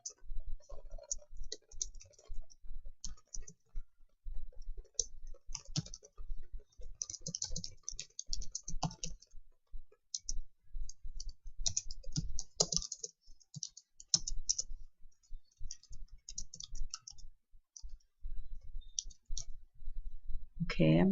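Clicks and typing on a computer keyboard during a VoiceThread assignment, a steady run of light, close taps and clicks throughout with a few louder bursts, under occasional soft background sounds.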